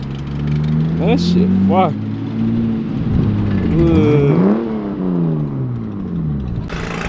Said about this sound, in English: Look at this Supra coming up right here.